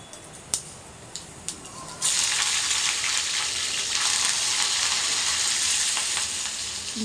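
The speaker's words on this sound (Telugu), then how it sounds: "ఉల్లిపాయలు పచ్చిమిరపకాయలు పోపు వేసుకున్నాను" Onions and green chillies frying in a kadai: a few sharp ticks and pops, then a loud, steady sizzle that sets in abruptly and keeps going without a pause, close by and with no voices.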